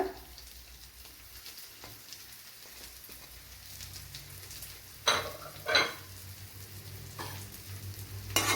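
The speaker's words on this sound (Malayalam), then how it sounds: "തേങ്ങയൊന്ന് ഫ്രൈ ചെയ്തെടുക്കണം" Grated coconut fries in a spoonful of coconut oil in a pan, a steady soft sizzle with a few louder crackling bursts and scraping stirs partway through, no voices.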